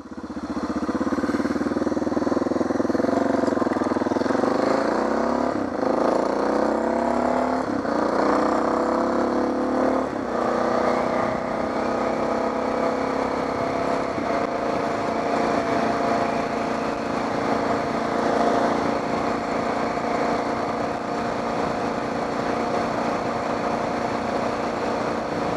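A Suzuki DR650 motorcycle engine runs close by, a loud, steady single-cylinder thrum with a few blips of throttle early on, then settling into an even idle.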